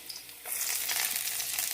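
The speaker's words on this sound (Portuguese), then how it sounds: "Vou refogar o alho" Garlic sautéing in olive oil in a pan, a steady close sizzle that jumps up sharply when the garlic goes in and then holds a dense, crackling hiss.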